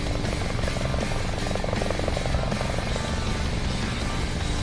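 A helicopter drones overhead with a steady, loud rotor thump and engine roar that fills the whole stretch without pause.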